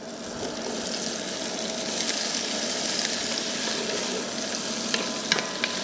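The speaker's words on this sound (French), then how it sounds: "On va y ajouter les petits lardons." Lardons frying in foaming butter in a pan, a dense continuous close sizzle and crackle that stays loud and even throughout, with faint stirring clicks and no talk.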